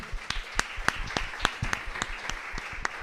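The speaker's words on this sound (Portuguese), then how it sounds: "Vamos aplaudir esse momento" Applause from a church gathering honoring nine-year-old Maria Helena, with sparse, distinct claps spread across the room rather than a dense roar, fairly close and steady throughout.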